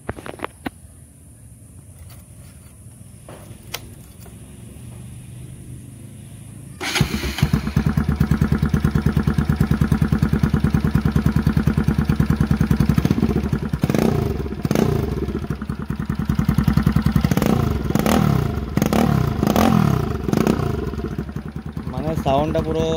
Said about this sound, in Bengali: আর এই অবস্থায় বাইকের সাউন্ডটা এক্সস্টের থেকেও বেশি লাউড দিচ্ছে